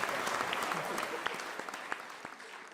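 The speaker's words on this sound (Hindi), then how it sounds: "एक बार जब मिलके तालियां बजाएं" An audience at a Hindi poetry recital claps together in sustained applause, a dense patter of many hands that stays fairly even and slowly thins toward the end.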